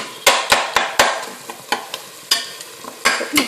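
Tomatoes sautéing in a pan with rock salt while a spoon stirs them, giving a run of sharp scraping clacks at an uneven rhythm over a soft, steady sizzle, close and clear.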